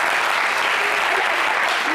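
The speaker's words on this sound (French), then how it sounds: "Il faut applaudir pour Dieu, le Créateur." A studio audience on a French-language television talk show applauds in a steady, dense burst of clapping that continues for the full two seconds with no pause.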